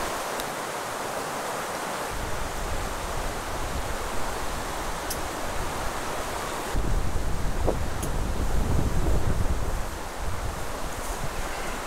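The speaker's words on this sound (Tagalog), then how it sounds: "nahanginan ka, nadadampian ka ng malamig na simoy ng hangin" Steady cool breeze blows across the microphone at a campsite in Quezon in a broad rushing hiss, rising in strength partway through, with no voices.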